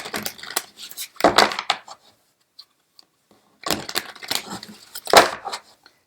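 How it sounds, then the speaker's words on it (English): Objects clatter and scrape on a wooden chest in two loud bursts of knocking and rustling handling noise, separated by a near-silent pause. "Sorry about the noise on this wooden chest here."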